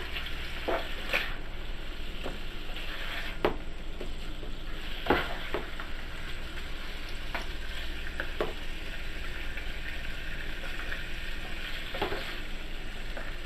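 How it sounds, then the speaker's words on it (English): Steady, loud sizzling of beef searing in a hot pan, with a few sharp pops and scrapes standing out over the constant frying hiss. "So once it gets brown, I'll flip it over to the other side. Sizzle going."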